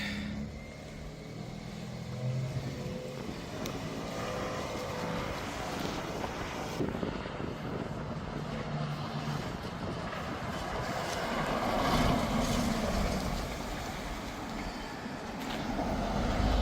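A car pulling off while towing an aluminium flatbed car-transporter trailer, 5.0 by 2.1 m, on three 1,500 kg Alko torsion axles with an Alko overrun brake. The engine sound is steady and broad, mixed with wind noise, and swells slightly near the end.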